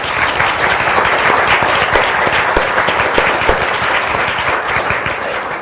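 Steady, dense applause from a convocation audience greeting the judges fills the hall. It stays loud and even throughout, with no voices over it.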